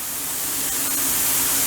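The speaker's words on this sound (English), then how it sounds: "I thought I'd just pop in that short sort of tutorial on spray painting" An aerosol spray can hisses steadily while painting a part for a BSA B44 trials motorcycle, a continuous close, loud broadband spray with a slight swell and no voices.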